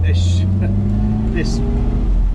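A 1968 Shelby Mustang 500GT fastback with a 7-litre engine and manual gearbox idles with a deep, steady rumble throughout, while a voice speaks briefly over it.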